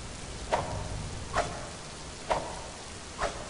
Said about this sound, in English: So that's how those swing.